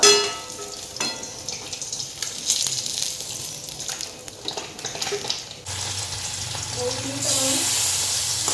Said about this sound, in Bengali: এক চড়া মাছ ভাজা হয়ে গেল